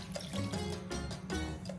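Homemade meat broth from pork neck bones is poured into a pan for cornbread dressing, a steady soft liquid trickle with splashy pulses, fairly quiet.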